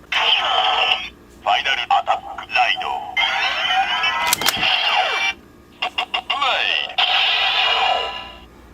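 Kamen Rider Blade final attack ride card read by a toy transformation driver, giving a generic electronic attack sound with bright buzzy tones and sweeping effects, loud and close, in several bursts with brief gaps.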